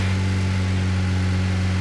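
A steady, droning motorcycle engine in the game PUBG hums at a constant low pitch, like an idling motor heard up close, with no voices over it.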